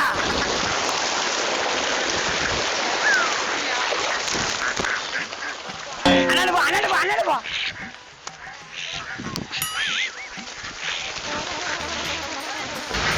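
Ducks quack in a noisy flock amid rain-like splashing and rustling, with people talking and calling over them.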